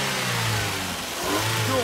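A car engine revs and accelerates with a whirring, turbo-like tone at a car meet campsite. The sound is close, steady and loud.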